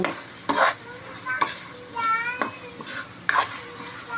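Ground meat stir-fried in a pan for a Filipino sautéed string bean dish, with intermittent scraping stirs and a soft sizzle, plus a few brief bird-like or child-like chirps in the background.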